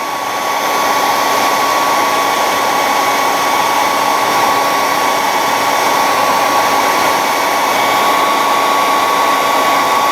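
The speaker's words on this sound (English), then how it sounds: "I'm hoping you can hear me talk over this hairdryer" A loud hair dryer blows hot air onto resin model kit parts, a steady unbroken roar with a high tonal whine that runs evenly from start to finish, close to the microphone.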